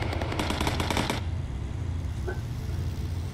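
A machine gun in the Bomber Crew video game fires a loud, rapid burst for about a second, then cuts out abruptly and leaves a low engine-like drone and a faint click.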